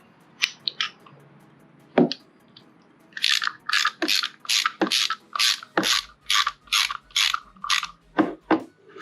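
Metallic clicks and scrapes while a snap ring is pried off a 4L60E transmission's 2/4 servo, then a quick series of regular rasping ratchet-like strokes, close and distinct, with no talking.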